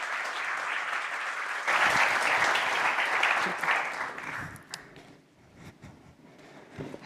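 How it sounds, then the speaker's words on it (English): Audience applause at a robotics industry get-together welcoming a company managing director to the stage; steady clapping swells after a couple of seconds, then tapers into scattered claps and a few voices. "Please welcome, with a big round of applause"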